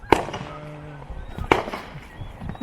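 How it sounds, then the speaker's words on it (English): New Year fireworks in Jamaica, two sharp loud bangs about a second and a half apart, each with crackling tails, over faint background noise. "Jamaica got the fireworks."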